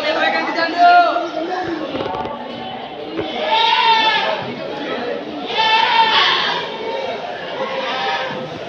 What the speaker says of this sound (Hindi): अजमेर के बकरे हैं इसमें, गुजरी और सिरोही के बकरे ज़्यादा आते हैं।